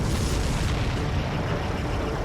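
A supply ship explodes in Ace Combat 7 as a loud, broad, sustained roaring blast that fills the whole moment with rumbling noise and no break.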